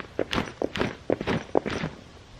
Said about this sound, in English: you jump up and down and see if it rattles anywhere